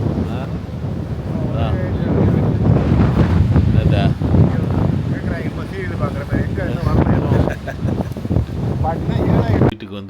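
Strong wind buffets the microphone at a beach, a loud continuous roar with gusting surges that masks faint voices talking underneath.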